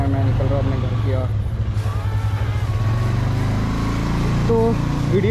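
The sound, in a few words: Royal Enfield Meteor 350 motorcycle riding on road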